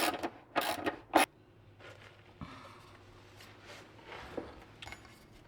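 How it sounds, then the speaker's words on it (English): A ratchet works on the bolts of Perrin driveshaft carrier bushings under a Subaru VB WRX, with a few sharp clicking bursts followed by scattered softer mechanical clicks and creaks, close by and with no speech. "I'm gonna snug it down and then torque it down according to what Perrin has"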